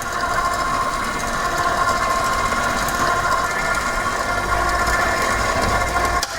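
An electric mixer churns vegan chocolate chip cookie dough in a steady, loud, continuous mechanical whir that holds evenly throughout, with no talking.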